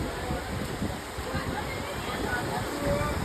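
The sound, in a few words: seawater flowing in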